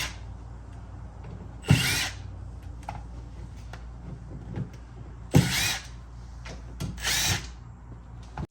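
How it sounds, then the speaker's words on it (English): An impact driver with a Phillips bit backs out screws from a bottom trim piece on an 80 Series Land Cruiser, three short loud rattling bursts separated by quiet pauses with small clicks, close up. "grab our impact and a Phillips head, remove this bottom trim piece with the 5 screws"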